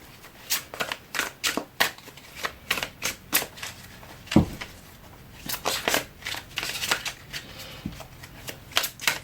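Tarot cards are shuffled and spread out on a surface, producing a long series of crisp, close riffling and slapping clicks in an uneven rhythm with no talking.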